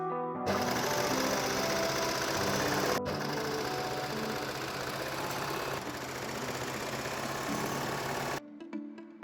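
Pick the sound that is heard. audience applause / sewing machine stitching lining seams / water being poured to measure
sewing machine stitching lining seams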